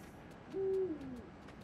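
A single owl hoots close by in the video game Endling: Extinction is Forever, one steady low tone swelling and then sliding down, over a quiet, hissy ambient backdrop with no talking.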